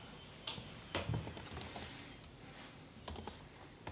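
Keys tapped on a computer keyboard in quick irregular bursts of clicks, close by and fairly quiet, with no talking.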